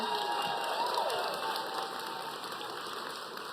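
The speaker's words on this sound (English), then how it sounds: "Can we give a round of applause for the doctors in that video?" An audience applauds and cheers for doctors at a livestreamed event, a steady wash of clapping and voices that fades slightly toward the end.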